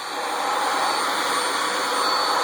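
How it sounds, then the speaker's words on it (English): A Hoover WindTunnel Air upright vacuum cleaner runs with a steady, loud motor whine and rushing airflow that holds constant from start to finish, with no talking. "It's going to start the vacuum."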